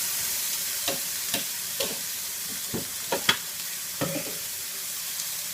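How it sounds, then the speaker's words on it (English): Peppers for fajitas sizzle and crackle steadily in a hot pan, with scattered louder pops and stirring clatters, close and without voices. "While that's frying"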